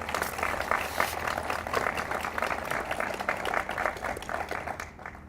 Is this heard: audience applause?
yes